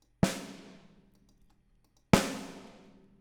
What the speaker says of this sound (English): And then I've got two snares that blended together sound like this.